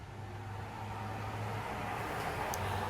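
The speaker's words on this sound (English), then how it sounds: "Here comes a car." A car passes by outside, a low steady road rumble that swells gently and stays moderately distant, with faint background ambience.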